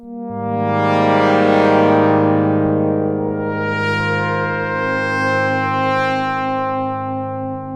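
A sustained Chroma Polaris synthesizer tone with metallic, clangorous ring-modulated overtones that sweep upward and back down, loud and buzzing.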